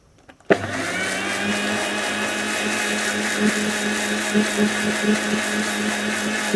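A kitchen mixer switches on with a sharp start and runs in a loud, steady whirring drone, blending sunflower oil into homemade mayonnaise for several seconds.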